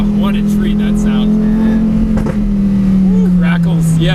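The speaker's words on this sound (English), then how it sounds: "I hope you guys can hear that V10." A Lamborghini Murcielago SV V10 on a mountain canyon run: a loud, close, steady engine drone holding a sustained tone that sags slightly in pitch, with a voice talking over it intermittently.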